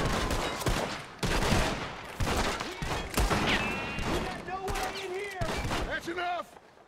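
Rapid volleys of gunfire strike a train during a robbery in the video game Red Dead Redemption 2, with repeated loud shots and bursts layered over a voice talking and short metallic ringing tones.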